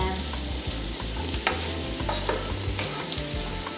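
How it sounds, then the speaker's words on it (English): Mushrooms being stirred in a hot pan for a vegan spaghetti primavera, with a steady close sizzle and repeated scraping, clattering strokes of the utensil against the pan. "So we just keep stirring this around. Now we want to get the mushrooms to soften."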